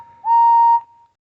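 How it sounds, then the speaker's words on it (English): A model railway steam locomotive whistle gives a single steady, clear tone of about half a second, fairly loud and alone, with a faint lead-in and trailing tail. "when suddenly he heard Henry's whistle"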